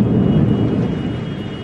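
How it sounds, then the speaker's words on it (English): A heavy thunderstorm in Harlem, a loud low rumble of thunder rolling over dense rain noise, fading slightly toward the end. "It's thundering."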